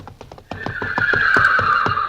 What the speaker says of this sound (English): Harlow, that's a horse.